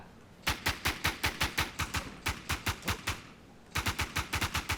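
Automatic gunfire in the online shooter Infestation on the Altar map, fired in three rapid bursts of loud, evenly spaced shots with brief pauses between them.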